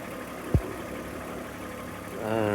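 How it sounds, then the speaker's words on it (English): A BMW E39 idles with a steady, low, smooth engine rumble throughout, marked by one brief thump near the start and a slight rise in tone toward the end. "it's idling quietly now."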